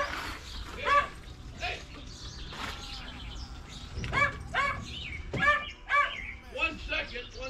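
Several dogs barking outdoors, short yips and bow-wows scattered through the clip, mixed with bird chirps and someone talking over them.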